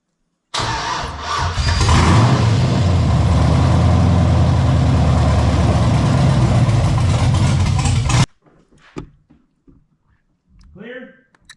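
A Ford LTD Crown Victoria two-door with a swapped LS V8 and manual gearbox cranks briefly, then catches and settles into a loud, rough, rumbling idle for several seconds before cutting off abruptly, leaving faint voices and small noises.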